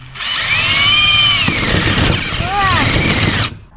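Large corded electric drill boring with a 6-inch bit, a loud whining motor that surges and bogs as it bites into the material, with a short dip midway and squealing tones.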